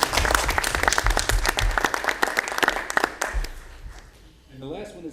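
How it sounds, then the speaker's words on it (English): A short burst of enthusiastic applause from the audience at a school board meeting fades out, followed by a voice beginning to speak. "a round of applause for them"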